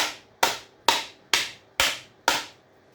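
Six sharp hammer blows ring out at a steady, unhurried rhythm while electric motors are broken apart for copper scrap, each strike close and bright with a short decaying ring.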